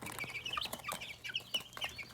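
Backyard chickens, including young pullets, cluck and chirp in a steady run of short, bright calls, fairly close and with no talking over them, while they are offered a favorite treat.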